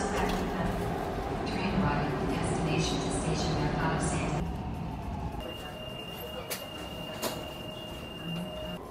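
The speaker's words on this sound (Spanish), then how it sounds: "Se va a ir este tren y vamos a esperar el otro." A metro train in Lima, Peru rumbles and squeals as it pulls away, its steady roar fading, followed by a high whine and clanks in a station.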